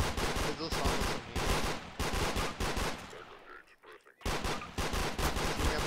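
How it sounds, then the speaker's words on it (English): Rapid bursts of automatic gunfire in Garry's Mod Trouble in Terrorist Town, loud and close, firing in repeated volleys with a short lull in the middle before shooting resumes. "He's shooting me, bro."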